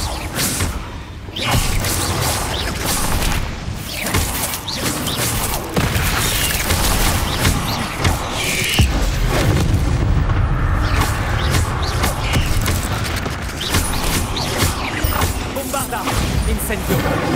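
Confringo explosive spell in the Hogwarts Legacy video game, blasting repeatedly as a series of loud booming detonations and crashes with rumbling debris, one after another in quick succession.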